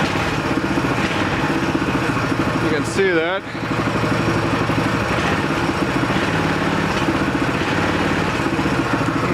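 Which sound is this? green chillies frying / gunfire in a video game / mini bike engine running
mini bike engine running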